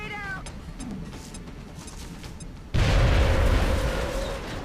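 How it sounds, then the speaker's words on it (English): A frag grenade detonates in the game XCOM, a sudden loud blast that cuts in partway through and rolls on as a dense rumbling roar, following a stretch of busier game sounds and a brief cat-like cry. "His shot doesn't kill, but it ensures Otter's frag is certain death."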